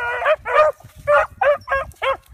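A dog gives a run of six or seven sharp, close barks and yips in quick, uneven succession, loud and alone, with a faint low rumble of background wind or handling between them.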